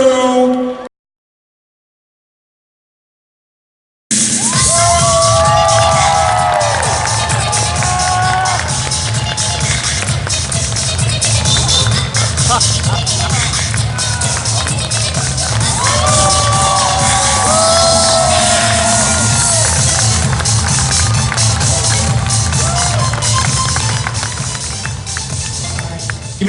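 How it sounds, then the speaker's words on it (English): A crowd at a cosplay contest applauds and cheers for the youth category, a loud, sustained roar of clapping, whoops and shouts that follows a brief silence and lasts over twenty seconds. "Give another round of applause for our entire youth category."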